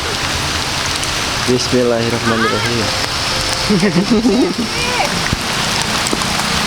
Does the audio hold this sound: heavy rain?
yes